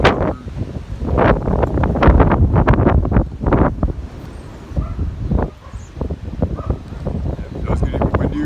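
Heavy windstorm gusts pound the microphone in continuous low roaring bursts, rising and falling in waves with steady loudness and no clear pauses.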